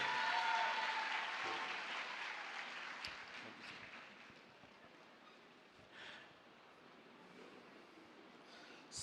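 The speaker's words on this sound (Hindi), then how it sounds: "आइए प्रभु के दास पास्टर सूरज प्रेमानी को वचन की सेवकाई करने के लिए फिर एक बार जोरदार ताली बजाकर प्रभु का धन्यवाद करें।" Applause from a church congregation at a gathering in Bacheli, Chhattisgarh, loudest at the start and fading to scattered claps, thinning out toward the end with no talk over it.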